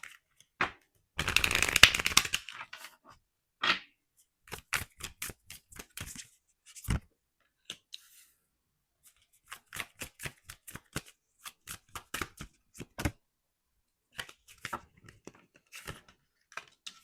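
Tarot cards being shuffled by hand: a long riffling burst early on, then a scattered run of crisp, close card slaps and flicks with short pauses between, quiet otherwise.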